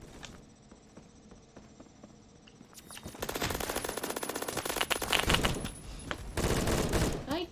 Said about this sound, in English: I'm getting shot with the freaking HK